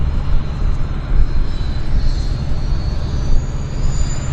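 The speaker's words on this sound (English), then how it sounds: "Early rotation for us on the WestJet Encore Q400, climbing majestically from Vancouver's runway 26 left." A WestJet Encore Q400 turboprop climbs out of Vancouver's runway 26 left, its engines a loud, steady low roar with a faint high whine riding over it, heard from inside the cabin.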